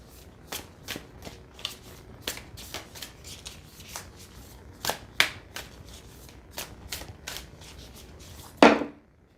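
Oracle cards being shuffled for a love reading: a fast run of crisp riffling flicks and snaps, close and clear, ending in one louder burst as the deck is squared.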